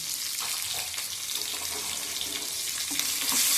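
Steady broadband hiss of tomatoes frying in hot oil for a ginger brinjal curry, with faint crackles and occasional stirring clinks, close and continuous.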